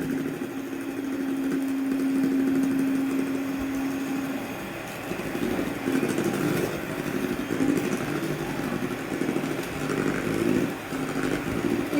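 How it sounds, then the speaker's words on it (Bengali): An electric mixer hums steadily at low speed while beating pound cake batter, a continuous whirring drone with slight rises and dips as the beaters work through the mix, no talking. "স্পিড লো রেখে আমরা হচ্ছে বিট করব।"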